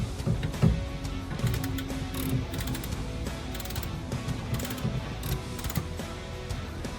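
Torque wrench tightening a nut to 40 on the suspension of a 35 ft toy hauler trailer during a lift upgrade: a steady series of close mechanical clicks and ratcheting over a constant background hum.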